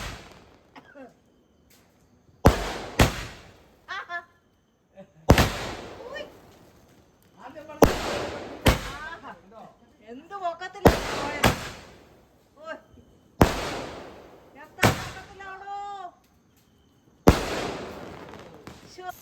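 Loud firecrackers, sparklers and aerial shells burst one after another at irregular intervals during Christmas celebrations in Kerala, each crack trailed by crackling and whistling, with voices faintly in between.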